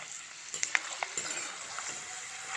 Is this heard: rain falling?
no